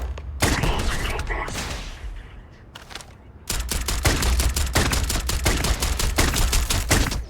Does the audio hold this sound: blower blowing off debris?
no